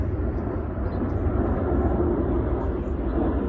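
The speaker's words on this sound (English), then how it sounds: "I'm gonna let the plane pass by." A fixed-wing airplane passing low overhead, a steady loud broadband engine roar holding constant throughout with no talk over it.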